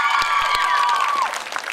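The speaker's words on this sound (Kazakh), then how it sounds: "Шапалақтарыңыз." Audience applause at a KVN comedy contest in Oral, Kazakhstan: dense, steady clapping across the hall, with a sustained tone ringing over it that fades near the end.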